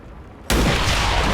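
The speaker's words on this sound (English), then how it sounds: "Hopefully it's going to be an explosion." An explosion in XCOM 2: War of the Chosen goes off abruptly after a quiet moment, a loud sudden blast followed by a sustained roaring wash of debris and rumble.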